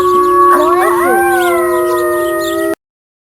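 A wolf lets out a long, loud, sustained howl with several layered voices sliding up and then holding steady, close and clear for under three seconds before it cuts off into silence.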